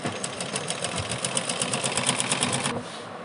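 A sewing machine runs a fine, close stitch along a pant seam, a rapid even chatter of needle strokes for nearly three seconds before stopping abruptly, close and moderately loud.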